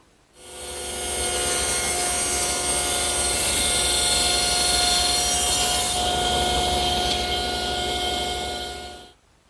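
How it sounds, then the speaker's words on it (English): A power saw cuts a wide rabbet in wood for the plywood back of a jewelry box, a loud, close, continuous whining cut lasting about nine seconds, then stopping abruptly. "Now that's the first of 2 cuts for a wide rabbet where the backing plywood will go."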